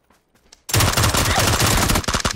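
Sustained machine-gun fire in a video game, a rapid, loud burst that starts abruptly after a quiet moment and rattles steadily for nearly two seconds before tapering into a few separate shots.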